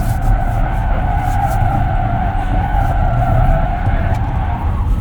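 A 2024 Ford Mustang Mach-E Rally car skids sideways continuously with a loud, sustained tire squeal over a rough rumble, close and unbroken for several seconds.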